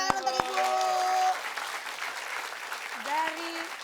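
Studio audience applause for a contestant's mother on an Indonesian variety show: continuous crowd clapping, with brief musical tones and a voice over it at times.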